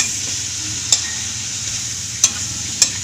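Freshly picked bitter gourd (ampalaya) cooks in a pan with a steady, close sizzle, broken by three sharp clinks of a utensil against the pan.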